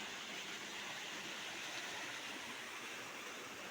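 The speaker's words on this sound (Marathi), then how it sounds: "तर हा आमच्या गावचा ओढा आहे" A steady, broad rush of a wide village stream flowing, filling the whole stretch, constant and unbroken, with no voices over it.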